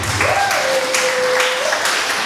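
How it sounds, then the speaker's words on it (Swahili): Steady applause from a church congregation, continuous clapping filling the short moment, with a sustained voice tone calling over it. "Pe Yesu makofi"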